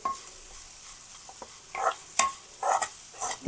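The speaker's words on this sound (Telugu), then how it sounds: "ఇదిగోండి వేగుతుంది చూసారా ఇలాగ వేపుకోవాలి" Dry red chilies frying in oil in a kadai: a soft sizzle with bursts of crackling and stirring scrapes, growing livelier toward the end, close by with no talking.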